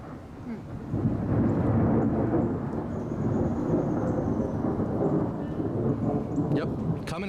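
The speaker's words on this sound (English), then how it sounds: "Let's see if we can get the thunder." Thunder from a rainstorm rolls in as a long, low rumble that swells after a second and lingers for several seconds, distant but full, with faint background sounds near the end.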